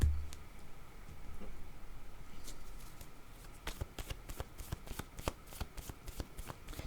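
A deck of playing cards being shuffled up close, with a run of crisp, rapid riffling clicks in the second half following a quieter stretch of soft card handling.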